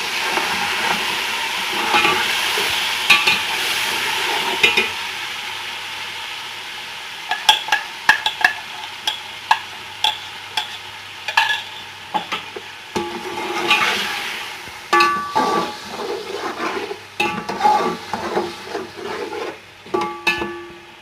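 Mutton pieces frying with garlic-ginger paste and dry spices for a yakhni pulao, loud sizzling broken by repeated scraping strokes of a spoon stirring the pot, close and without any voices.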